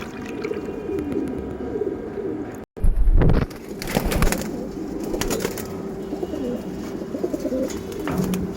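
Pigeons coo in repeated low, soft calls close by, with a brief loud bump and some wing flutter and shuffling in between.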